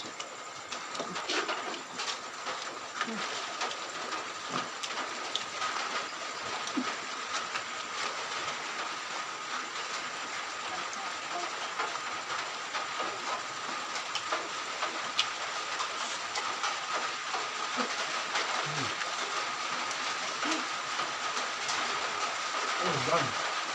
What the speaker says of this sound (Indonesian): Hujan. Berisik. Hujan.